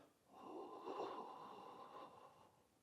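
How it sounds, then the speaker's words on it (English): A slow, steady exhale through the nose during a neck exercise, soft and close, a continuous breathy rush lasting a couple of seconds. "We're going to exhale as we go down."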